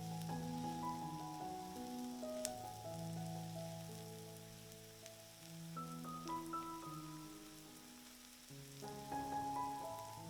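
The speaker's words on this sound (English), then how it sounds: "We will let these vegetables fry together slowly for about 10 minutes to build" Onions and mushrooms fry slowly together in a pan, giving a faint, even sizzle like light rain that runs throughout beneath background music, with no talking.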